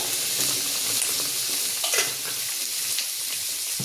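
A spinach mixture frying in oil, a loud, continuous hiss and crackle with occasional stirring scrapes, close and without talk.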